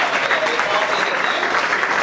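An audience at a school gathering on understanding the Quran claps for a boy, a loud, dense and continuous burst of applause from many hands, close and steady for about two seconds.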